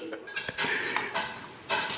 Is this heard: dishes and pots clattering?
yes